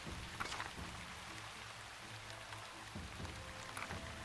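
Faint, steady rain ambience from a video game, a soft continuous hiss of falling drops with no talking.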